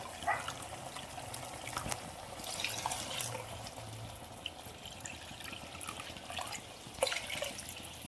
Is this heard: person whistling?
no